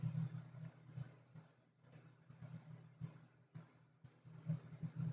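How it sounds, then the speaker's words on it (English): Typing on a computer keyboard, with quiet, irregular clusters of light clicks over a low steady hum and no speech. "I am trying to type."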